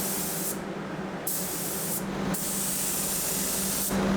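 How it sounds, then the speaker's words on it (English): Paint spray gun respraying a section of a classic Toyota Landcruiser FJ62, a loud close steady hiss in several long passes, briefly cutting off between bursts. "So we've just decided to respray this area, get it looking schmicko."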